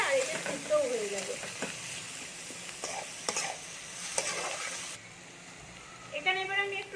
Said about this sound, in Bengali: হাই ফ্লেমে পুরো আমি কিন্তু ভাজবো এটাকে।